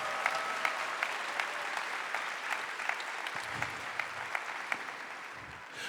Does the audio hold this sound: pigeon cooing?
no